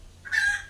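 A rooster in a Philippine backyard flock crows once, loud and close, a short bright call rising sharply and holding briefly before trailing off, with no talk over it.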